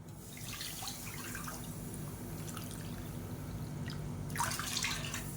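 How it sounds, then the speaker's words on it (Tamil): Water is poured into a pan for kozhukattai (modak) dough, a soft, steady trickle heard close but quiet throughout, with a brief splashier surge near the end. "ஒரு கப்புக்கு அதில் ரெண்டு கப் அளவுக்கு தண்ணி சேர்த்துக்கலாம்"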